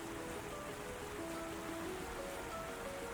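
Heavy rain pours down at sea in the Ys X Nordics video game, a dense, even hiss of downpour holding steady throughout with faint tonal game sounds underneath and no talking.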